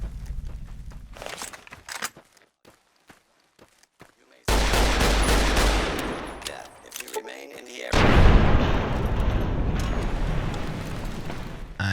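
Rapid bursts of gunfire at a shooting range in Fallout: New Vegas, first a string of separate sharp shots, then dense sustained firing with loud booms, a voice talking over parts of it.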